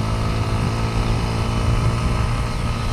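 A Dafra Apache RTR 200 motorcycle engine runs loud and steady close by, its low rumble holding an even, continuous tone throughout with no voices.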